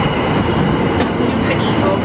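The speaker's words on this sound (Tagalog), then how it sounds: "The local train." Tokyo local train in motion, a loud continuous rumbling rattle with faint rail clatter heard from onboard, with a voice briefly speaking over it.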